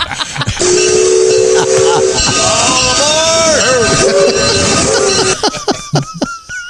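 A steam train whistle sound effect blows loud and sustained for about five seconds, its chord-like tone bending slightly in pitch before cutting off, followed by brief voices at the end.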